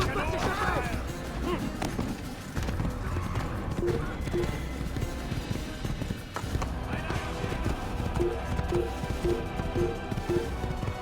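Rhythmic horse hoofbeats clip-clop throughout with occasional whinnies, under a continuous Assassin's Creed game soundtrack and a talking voice.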